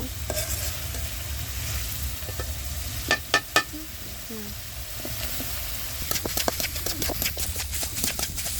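Potatoes are stirred into a fried spice mix with Maggi masala for samosa filling, making a close, continuous sizzle with repeated scraping stirs and a few louder knocks of a spoon on the pan.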